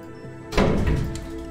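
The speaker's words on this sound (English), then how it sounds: "Kim slamming doors." A single door slam in a fidget-cube music puzzle game lands as one sharp, loud thud with a brief rumbling tail, coming right after a quiet stretch.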